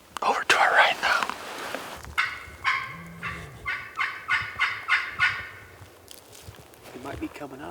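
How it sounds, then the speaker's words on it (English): A wild Merriam's turkey gobbles from some distance, its rattling call delivered as a run of about seven quick pulses in the middle, with brief rustling and soft low voices before and after. "Bird just gobbled again to a crow."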